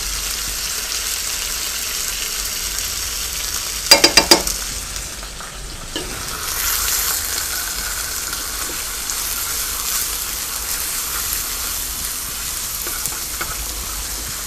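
Chicken pieces frying in butter with garlic, a steady close sizzle running throughout, broken near the start by a short burst of clattering stirring strokes and a few lighter stirs later on.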